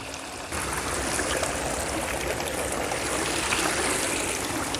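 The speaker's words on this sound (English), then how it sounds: "A 27-foot long curving pondless waterfall." Water tumbles steadily down a 27-foot-long curving pondless garden waterfall, a loud, continuous rushing trickle heard close up with no voices, swelling slightly after the first half second.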